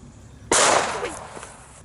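A firecracker explodes outdoors near vineyards with one sudden loud bang, followed by a short echoing decay.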